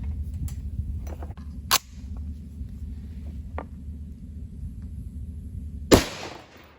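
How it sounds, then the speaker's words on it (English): A rifle fires unsuppressed with a loosening muzzle brake at a range, a few sharp cracks spaced seconds apart, the last shot loudest and close, over a low steady background rumble. "I'm just gonna shoot this a couple times unsuppressed"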